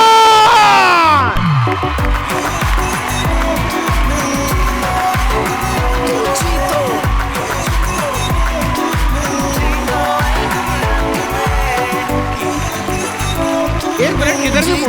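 Studio audience on a game show cheers and applauds as guests Aadi and Faizan arrive, a loud, dense crowd roar with whoops, steady throughout and mixed with voices and a busy musical backdrop.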